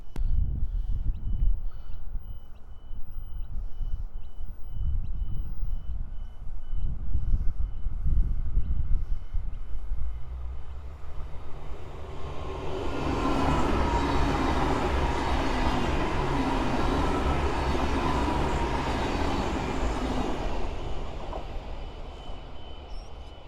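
A V-Line passenger train on standard gauge track rumbles past close by at Jacana station, its clattering wheels and roaring engine building to a loud, sustained rush before gradually fading.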